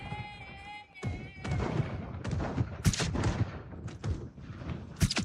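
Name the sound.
gunshots in the video game Project Zomboid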